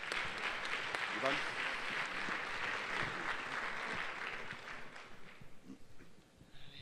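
An audience at an industry technology conference gives a warm, sustained round of applause that thins out and fades into scattered claps over the last couple of seconds, with faint voices beneath.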